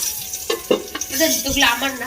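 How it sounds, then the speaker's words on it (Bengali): Thick eggplant slices fry in a pan with a bright sizzle, stirred now and then with a few light utensil clinks, heard up close. "বেগুন ভাজা"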